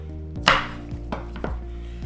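Washed scallions trimmed with a knife on a cutting board: a few distinct close chopping taps, one sharper cut then two or three lighter knocks, over a steady low hum.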